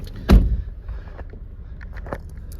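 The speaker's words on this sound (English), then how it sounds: "Shut this door." A single solid thump of a Mercedes-Benz GLA 250 AMG Line car door shutting near the start, followed by faint rustling and a few light clicks.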